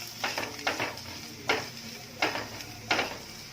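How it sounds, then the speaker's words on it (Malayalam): A spoon scrapes through masala sandwich filling with green leaves in a pan, five distinct stirring strokes at a steady, unhurried rhythm, close and fairly quiet, with no talking. "ഇനി ഇതെല്ലാം കൂടെ നന്നായിട്ട് മിക്സ് ചെയ്തിട്ട് എടുക്കണം."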